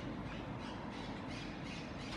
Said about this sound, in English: The trees with the parakeets and the pigeons moving around, flying and screaming.